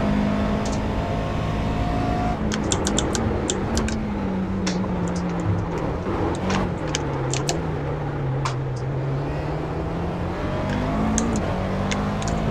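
Race car engines roar steadily through a sim racing sprint at Circuit Gilles Villeneuve, a sustained high drone with pitch rising and falling as gears shift, with other cars audible nearby and brief clicks over the top.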